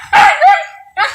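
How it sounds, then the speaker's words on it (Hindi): Several Siberian huskies bark and yip in a home setting, with two loud, close barks followed by a shorter third one in quick succession. "चारों डॉगियों ने भौंकना शुरू कर दिया"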